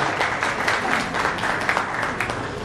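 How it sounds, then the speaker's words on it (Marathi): Audience clapping at a book launch ceremony, a dense run of many hands beating together in steady, lively rhythm, close and fairly loud, lasting the whole stretch without a break. "एकदा जोरदार या 2 व्यक्तींसाठी टाळ्या होऊ द्या."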